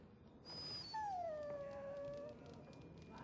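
A dog in the Dragon Age video game whimpers and whines, one drawn-out, falling cry over a faint hum, fairly close and alone.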